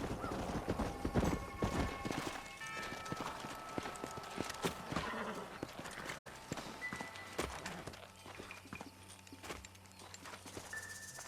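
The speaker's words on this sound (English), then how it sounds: "Let's hold up a minute and find a spot for our horses." Horses walking in Red Dead Redemption, hooves clip-clopping in an uneven steady rhythm at close range, with a brief whinny and faint background game sounds, no talk.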